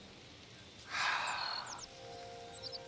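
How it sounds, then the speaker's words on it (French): Birdsong in the video game Hytale: a few short whistled chirps and a sustained tonal call, fairly faint over a soft ambient bed with a brief breathy burst in the middle. "Avec les chants des oiseaux là."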